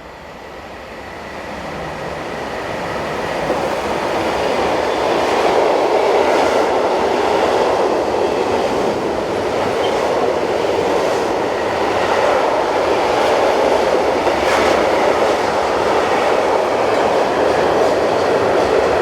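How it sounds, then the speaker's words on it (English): Swiss electric locomotive 185115 hauls a wagonload freight train on the Gotthard north ramp, a loud continuous rumble of rolling wagons with rhythmic wheel clatter that swells in and holds steady throughout, with no voices. "heading north, we see 185115 on a Chiasso to Mannheim wagon load freight service"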